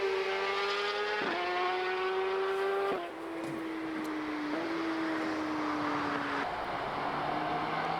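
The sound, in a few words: BMW M3 G80 car speeding past on the autobahn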